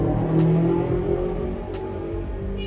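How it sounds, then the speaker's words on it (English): A steady roar of street traffic in Bali with motorbike engines humming and revving nearby, a couple of brief high whooshes passing. "there's motorbikes, there's a lot of traffic"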